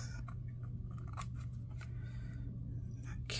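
Scissors trimming paper for a creative journal, faint quick snips over a low steady background hum, close and quiet with no talk.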